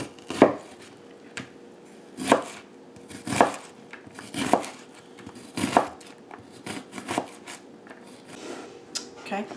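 An orange bell pepper chopped for end-of-summer chow chow, with sharp knife strikes on a cutting board coming in uneven bursts about a second apart. The cuts are close and fairly loud against a quiet kitchen background.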